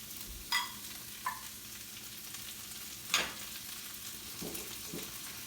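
Onion with frozen peas and carrots frying in hot sesame oil for vegetable fried rice, a soft steady sizzle with a few brief clinks and stirring scrapes, no talking.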